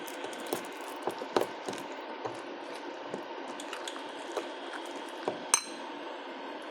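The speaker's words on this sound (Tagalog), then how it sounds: "Mag-add ako ng milk." Milk is poured and stirred into banana cake batter in a home kitchen, a soft continuous liquid trickle with scattered light clinks and squishy taps of utensil against bowl, quiet and close.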